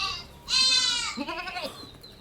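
Crossbreed dairy goats with young kids at a farm: one close, loud bleat is followed by a shorter, wavering second bleat, with quiet in between.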